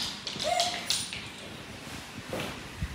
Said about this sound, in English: Barks and whines in the crate, and also does not listen.